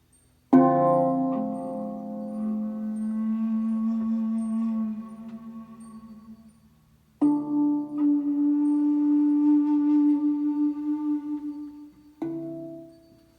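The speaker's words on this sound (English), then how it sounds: "I've got some hand pan and Native American style flute." Sustained breathy Native American style flute tones over ringing metallic hand pan notes, in three long phrases separated by fresh attacks, calm and close.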